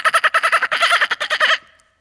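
At an awards ceremony broadcast, a human voice imitates a dolphin with about a second and a half of rapid, squeaky, pulsed chattering squeals in quick succession, then falls silent.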